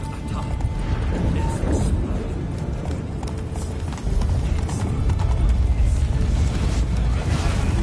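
A horse in The Witcher 3 gallops with a continuous rhythmic clatter of hooves, steady and fairly loud beneath rushing wind-like noise, growing heavier in the second half.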